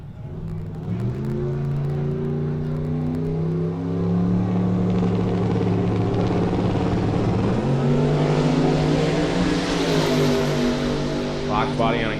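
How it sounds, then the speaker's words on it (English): A turbocharged Fox body car races down a drag strip at a street-class event, its loud engine droning and rising in pitch over several seconds while an announcer talks over it. "Little turbocharged Fox body over on the left side."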